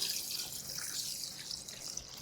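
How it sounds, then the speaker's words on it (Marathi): Rice being washed in plenty of water, soft splashing and trickling with drips and sloshing, fairly faint and close, continuous for a couple of seconds with no talk. "हा तांदूळ स्वच्छ धुवून घ्यायचा कुठलाही तांदूळ घ्या स्वच्छ धुवा काय भरपूर पाणी घालायचं"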